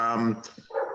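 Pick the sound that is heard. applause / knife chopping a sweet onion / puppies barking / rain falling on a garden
puppies barking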